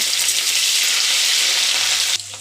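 Capsicum and chopped onion frying with whole cumin in hot oil, a steady, loud, close sizzle running unbroken for a couple of seconds before cutting off abruptly, no talking.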